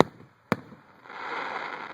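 Fireworks at a show in Leonard, Texas: a single sharp, loud burst cuts through near silence, followed by a swelling crackle and hiss of sparkling fireworks that continues steadily.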